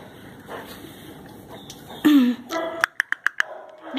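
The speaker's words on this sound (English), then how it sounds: "Yeah, I hear a cough." A single close cough bursts out midway, followed by a quick run of short, sharp hacking sounds, over faint background noise with no talking.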